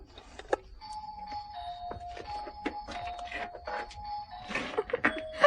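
An electric doorbell rings in a couple of sustained tonal bursts, moderately loud and indoors, with light shuffling and footsteps mixed in.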